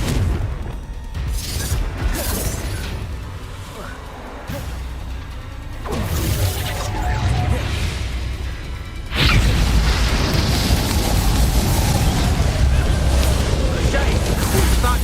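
Spell blasts from Confringo and Bombarda erupt in the Hogwarts Legacy video game, loud booming explosions and whooshes over continuous rumbling game audio, with a player talking throughout.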